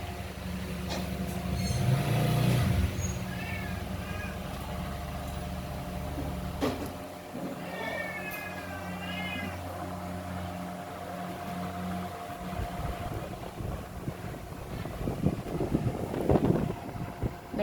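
An electric fan whirs with a steady hum in a home shared with cats, the drone running unbroken for the whole stretch, with a brief high call partway through.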